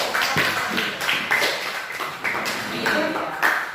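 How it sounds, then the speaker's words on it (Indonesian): A class of seventh-grade students claps in a classroom, an irregular run of hand claps with talk mixed underneath. "beri tepuk tangan"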